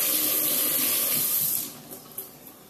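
Tap water runs steadily as food is rinsed under a kitchen faucet while making Atomic Buffalo Turds, a broad hiss that cuts off partway through, followed by a few faint drips and clinks.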